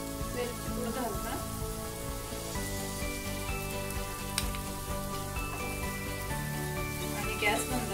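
Sweet potato slices frying in a pan with sugar and jaggery as it caramelizes, a dense, steady sizzle and crackle throughout, close by, with a voice speaking over it.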